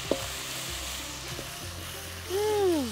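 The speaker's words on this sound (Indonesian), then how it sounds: "Sekarang kita tumis bumbunya dulu ya" Spices sautéing in a pan, a steady frying sizzle with a brief stir clatter early on, then a louder hiss as more goes in, no voices.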